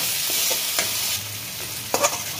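Chicken keema with a little lemon juice being stirred in a pan, a soft continuous sizzle broken by a few quick spatula scrapes and taps, close up, with no talking.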